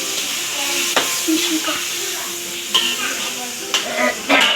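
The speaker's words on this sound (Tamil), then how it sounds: "தக்காளி பழத்தை வெட்டி இப்படி எண்ணெயில் அந்த மிளகா சாந்தோட தக்காளி பழம் எல்லாம் வேகணும்" Sliced tomatoes fry in oil with chili paste for an anchovy sambal, a continuous sizzle broken by several sharp spatula scrapes and knocks against the pan.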